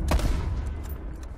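A single loud video-game gunshot cracks at the start and tails off, followed by faint scattered shots in the background.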